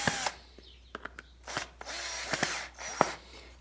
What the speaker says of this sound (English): So now I'm gonna take a screw through the bottom,